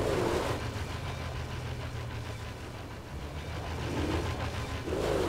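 A video-game car engine in Mad Max hums and revs steadily at moderate volume, rising and falling in pitch a couple of times, with no one speaking.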